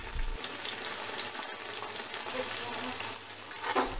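Rounds of yeast dough frying in hot oil give a steady, close sizzling crackle throughout, with a brief tap of a utensil toward the end and no talk.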